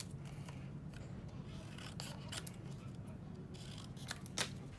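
Scissors snip through white cardstock at a crafting table, a series of soft close cuts with light paper rustle and handling between strokes, fairly quiet throughout.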